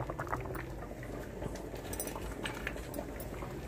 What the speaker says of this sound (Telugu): పులుసు ఉడుకుతుందండి.